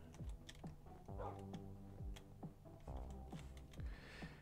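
Dogs in the video game Minecraft give a rapid run of short, clipped barks, several in quick succession at a moderate level, with no talking over them.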